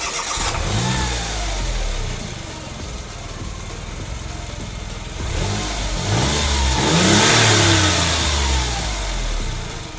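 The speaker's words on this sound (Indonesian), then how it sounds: "Kita dengerin suara mesinnya dulu kayak gimana." A Smart Roadster's small mid-mounted engine fires up and settles into a rough idle, then is revved in a few rising and falling sweeps, heard up close with no voices.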